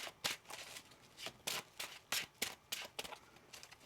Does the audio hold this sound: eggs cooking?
no